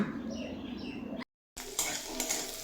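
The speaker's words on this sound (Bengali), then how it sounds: "এই আলুগুলো আমি পেঁয়াজের সঙ্গে দুই মিনিট মতো ভেজে নেব" Two medium potatoes, cut into pieces, frying with onions in a pan: a steady close sizzle with spatula stirring scrapes, broken by a brief silent gap before the sizzling resumes.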